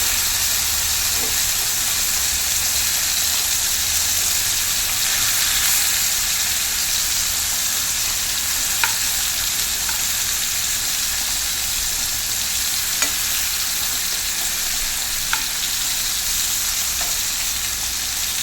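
Steady loud sizzling of fish head frying in hot oil in a pan, a continuous hiss with a few faint clicks and no talking.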